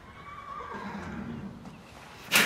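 A horse gives a clear neigh, a drawn-out whinny close by, followed by a brief louder burst of noise at the end, with no talking.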